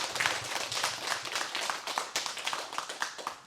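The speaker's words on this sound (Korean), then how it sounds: "오늘도 큰 법문해 주신 방장 스님께 큰 박수 좀 부탁드리겠습니다." Audience applause fills the hall after a monk's dharma talk at a Korean Zen temple, a dense, steady patter of many hands clapping for several seconds at moderate level.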